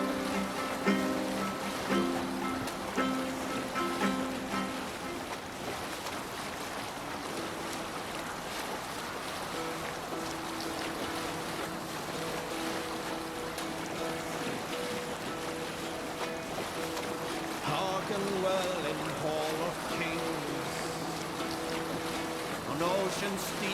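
Sailing ship in the video game Assassin's Creed Valhalla, with steady waves, wind and creaking rigging under a continuous broad wash of sound, overlaid by singing voices and music.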